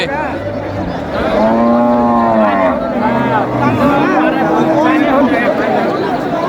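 Several cattle moo in long, drawn-out calls amid the murmur of a busy crowd at a cattle market ahead of Qurbani, the lowing loud and close with chatter running underneath.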